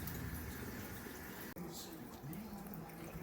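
Water runs steadily through the hoses of a cleaning machine, a constant faint rushing hiss with a brief dropout partway through and no talking.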